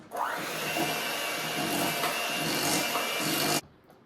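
An electric mixer beats banana cake batter made with sugar and vanilla extract, giving a steady, loud, close whir that runs for about three and a half seconds before cutting off sharply.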